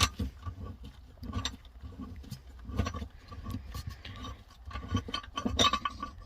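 A spare tire hold-down in a Toyota Corolla's trunk being twisted loose by hand, giving small close metallic clinks and ratcheting ticks with light patter, uneven and continuous, no talking.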